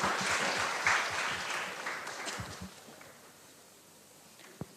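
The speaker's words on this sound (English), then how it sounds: "Once again, a big round of applause for these people." An audience claps in a broad wash that tapers off over a few seconds into scattered claps and quiet, with one sharp clap near the end.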